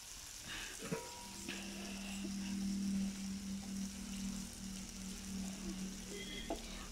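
Onions, fennel, fenugreek, curry leaves and garlic frying in oil in a cooking pot, giving a steady close sizzle with occasional stirring clicks and scrapes that swells slightly midway.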